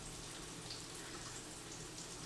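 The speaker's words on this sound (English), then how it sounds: "run them under a little bit of water, and they slide right out" Tap water runs steadily over silicone ice cream molds at a kitchen sink, a soft, even hiss and splash that holds at the same low level throughout, with no voices.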